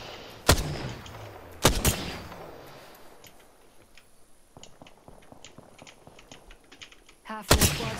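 Triple Take rifle fire in the Apex Legends video game: a few loud, spaced single shots early, a quieter stretch of ticking and clicks, then another sharp close shot near the end.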